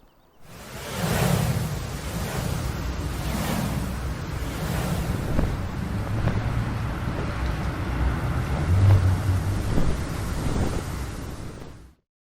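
A Fiatagri 180-90 tractor driving in Farming Simulator 19 produces a steady rumbling engine drone with a windy, broadband wash and gentle rhythmic swells, loud and continuous for about eleven seconds with no voices.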